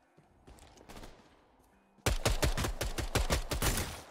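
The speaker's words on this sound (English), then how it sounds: "the pistol going to work." Pistol gunfire in a video game: a few scattered shots, then a rapid string of loud, sharp reports in close succession with no talk.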